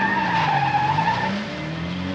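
Car tires skidding and squealing to a stop in an old-time radio crime drama, a loud continuous screech with shifting pitch over engine rumble, with no voices over it.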